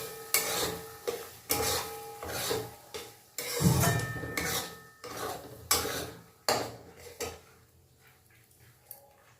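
A spoon scrapes and clinks against a pan while paneer masala with yogurt is stirred over a low flame, in repeated close scraping strokes separated by short pauses.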